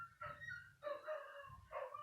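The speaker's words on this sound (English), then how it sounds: "So my neighbour's dog, if you can hear that." A neighbour's dog barks and yips in three distinct bursts, faint and somewhat distant, heard alone without talk.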